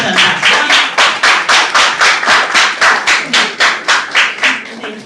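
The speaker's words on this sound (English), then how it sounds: "If you are glad to be here, let's see you clap your hands." An audience at a school speech and debate championship claps in a steady, rhythmic unison beat, about three claps per second, loud and close, filling the whole stretch without talk.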